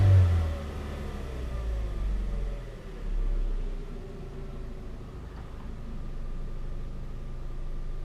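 A Chevrolet Sonic with a 1.4L engine runs steadily at close range, its low hum swelling briefly as the engine revs around the start and again midway, then settling back to a constant drone.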